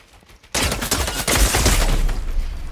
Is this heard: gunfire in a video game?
yes